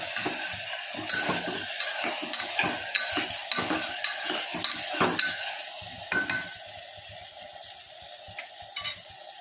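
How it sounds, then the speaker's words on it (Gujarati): Turmeric being stirred into a sizzling pan while making peanut and moraiyo khichdi, with a steady run of scraping spoon strokes over a continuous fry hiss. Close and fairly quiet, with no talking. "હળદર બધું નાખી અને એકદમ મિક્સ કરી દઈશું।"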